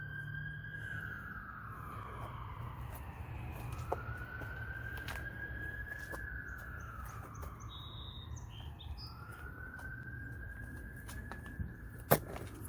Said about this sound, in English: We have a police car.